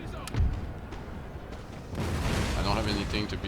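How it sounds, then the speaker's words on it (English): Cannon artillery booms in a Napoleon: Total War battle, with deep blasts and rumbling fire at a distance under a noisy battlefield wash, while someone talks over it. "So the cannon finished one unit."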